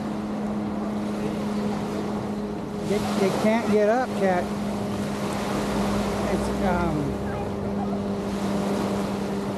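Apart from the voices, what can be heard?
ocean waves at Waikiki Beach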